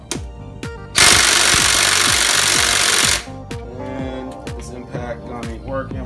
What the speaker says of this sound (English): we have to crack them loose with the socket wrench first